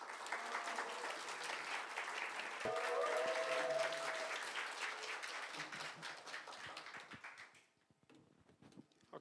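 A crowd at a gathering for newly qualified loss adjusters applauds and cheers to welcome the institute director, a dense steady clapping that fades out toward the end, leaving a few scattered claps.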